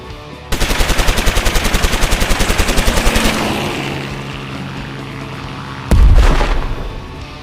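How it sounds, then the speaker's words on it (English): Dragon tanks attack an army in a battle: a rapid burst of loud machine-gun fire rattles for about three seconds, a rumbling tail fades, then a heavy explosion booms and decays. "across the threshold rumbles the dragon tanks of Apocalypse"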